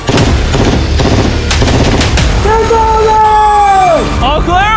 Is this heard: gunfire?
yes